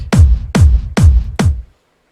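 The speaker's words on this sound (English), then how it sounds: "Kick just hits. It's a 4x4 kick." Four punchy four-on-the-floor electronic kick drum hits in a steady even beat for trance music in FL Studio, each a deep booming thump with a sharp attack, then silence.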